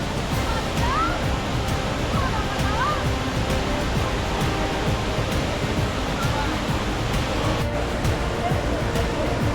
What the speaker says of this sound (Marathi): फायनली धबधब्याजवळ पोचलो.